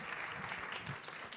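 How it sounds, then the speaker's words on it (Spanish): Brief, dense applause from the audience at a pediatrics session where recognitions are handed out, a steady rush of many hands clapping at once, fairly distant and without voices. "Bien, bravo, un aplauso."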